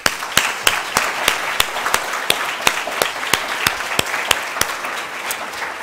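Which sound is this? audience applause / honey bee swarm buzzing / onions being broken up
audience applause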